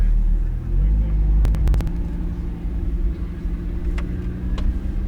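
A car rolls slowly forward on a track toward blue cones, with a low steady engine rumble and idle hum and a few light clicks, heard up close from inside the car.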